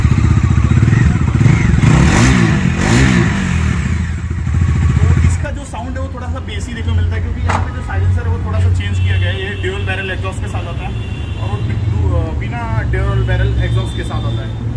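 Bajaj NS 400Z motorcycle engine revving loudly up close, a strong rising-and-falling rev burst in the first seconds, then settling into a steady idle rumble with some clatter.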